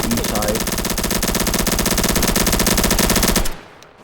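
Loud, sustained automatic gunfire in a multiplayer shooter video game, with rapid continuous bursts for several seconds before abruptly cutting off to a quiet tail.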